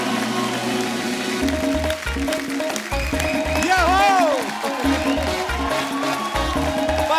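A studio audience on a comedy talk show claps as guests come on stage, with a broad wash of applause over loud show music throughout.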